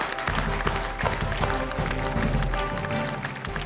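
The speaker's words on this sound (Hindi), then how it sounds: "हम जोरदार तालियों से स्वागत करें लता हया।" A studio audience at a comedy poetry show bursts into loud, sustained applause to welcome a poet to the stage, with a steady low hum running beneath the dense clapping.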